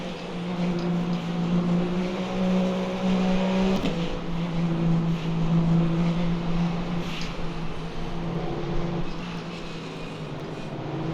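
A race car engine howls through the Porsche curves at Le Mans in the Le Mans Ultimate sim, a sustained roar with a gear change or lift near 4 seconds, then a fluctuating drone that eases off toward the end.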